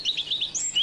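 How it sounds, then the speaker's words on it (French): Small birds chirp and tweet in spring, a quick run of bright, high twittering notes close by over a quiet background. "J'aime écouter le chant de ces oiseaux qui reviennent du sud."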